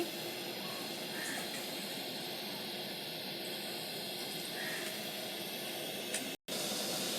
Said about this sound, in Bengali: কড়াইটা গরম হয়ে গেছে বন্ধুরা কড়াইয়ে তেল দিচ্ছি